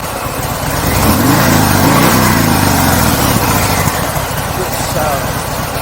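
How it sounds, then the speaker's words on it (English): A Harley-Davidson Sport Glide engine revs up loud and close while the bike is stopped, a sustained rumbling drone with rising throttle blips that runs through the whole stretch. "when riding a Harley, you always have to stop and give it some revs when you get to traffic lights or a junction"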